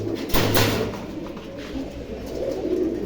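Teddy pigeons coo softly and repeatedly close by, a low throaty murmur over faint background noise.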